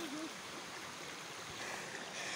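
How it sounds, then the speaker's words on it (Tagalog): A strongly flowing stream rushes steadily as a continuous broadband wash of water, moderately close and even throughout, with a faint brief vocal sound near the start. "Yung agos ng tubig, medyo malakas siguro"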